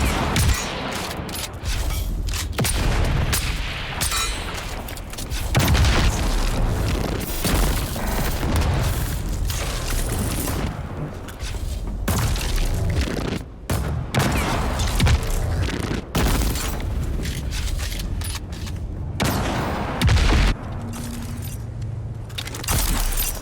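Ancient-way rockets in Dune Awakening detonate over and over in a dense, loud barrage, booms and crackling blasts overlapping almost without pause for the whole stretch.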